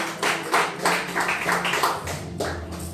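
Church congregation clapping during a lively sermon. Loud rhythmic handclaps come in quick, uneven bursts, with a low murmur of voices and crowd noise underneath.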